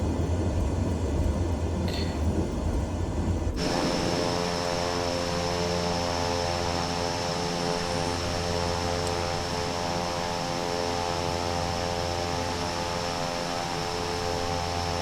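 Steady drone of a Cessna 408 SkyCourier's twin turboprop engines in Microsoft Flight Simulator, loud and continuous on the runway, with a quieter rougher start before a sharp step into a fuller, harmonic-rich engine roar.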